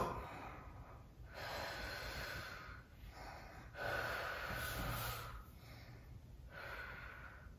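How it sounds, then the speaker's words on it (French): Several forceful breaths during a stomach vacuum exercise, with strong blown exhalations and intakes alternating in a steady rhythm of about four cycles, close and fairly loud with no talking. "Et expirer tout en rentrant le ventre."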